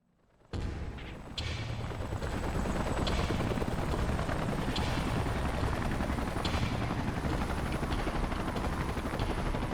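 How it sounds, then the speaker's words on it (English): Salvage helicopters arrive in the video game Xenoblade Chronicles X, their rotors sounding as a loud, steady, continuous thrum that starts suddenly and holds through the whole stretch, with no voices. "Let's call in the salvage choppers and get it out of here."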